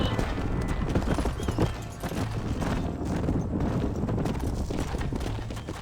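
Horses' hooves clip-clop steadily in Red Dead Redemption as a group is led into a pen, a dense, continuous patter of hoofbeats close by, with a short lull partway through.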